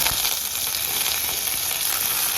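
Garlic, curry leaves and fenugreek seeds sizzling in hot oil for a village-style lobster curry, a steady bright hiss and crackle, close and loud, with no talking.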